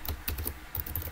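Rapid computer keyboard typing in uneven bursts of clicky keystrokes, close and fairly quiet, with no voices.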